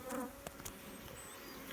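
A honey bee colony gives off a faint, steady buzzing hum, with a couple of soft bumps near the start.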